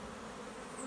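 Bees buzzing around a beehive being split apart, a faint continuous droning hum with no pauses, close enough to fill the background evenly.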